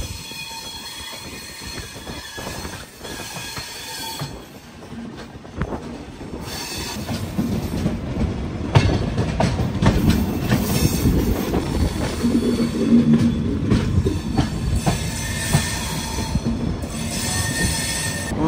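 An express train pulling into Vijayawada Junction, steady rumble of rolling coaches with wheel squeal and clickety-clack building louder toward the end, heard close from on board with no talk.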